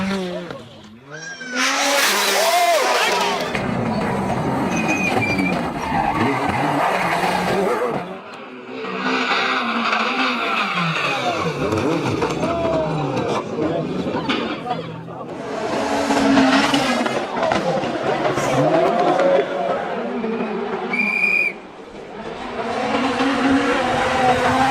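Rally cars race on a stage, engines revving hard with tire squeal and skidding through corners, loud and continuous, with a voice talking over parts of it.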